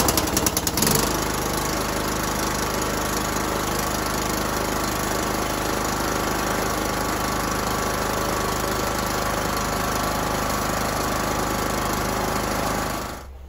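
A Bolens lawn mower engine, choked and started without starting fluid after a no-start fault, catches within a second and runs loudly and steadily at a rough idle for about twelve seconds before cutting out.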